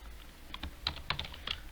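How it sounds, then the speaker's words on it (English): Fingers type on a computer keyboard, a short burst of quiet, irregular clicking keystrokes close by with no voices. "Now we are typing here the correct options in the square brackets."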